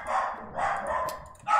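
Pet dogs bark in the background of a house, a few short yapping barks in quick bursts, moderately loud and somewhat distant, with no talk over them.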